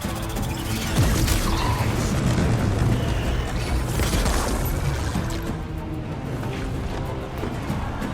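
Bombs going off in Horizon Forbidden West, a loud, dense roar of booming blasts and crashing debris that swells early and then slowly tapers away.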